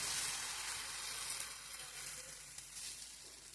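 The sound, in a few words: ragi dosa batter sizzling on a hot greased tava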